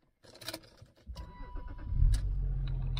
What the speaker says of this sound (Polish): Odpalamy furę.